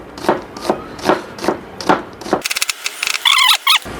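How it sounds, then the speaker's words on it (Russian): Steady knife chops slicing onion thinly on a wooden board, about six evenly spaced strokes, followed by quicker clicks and a brief sizzle or scraping sound. "Нарежем лучок."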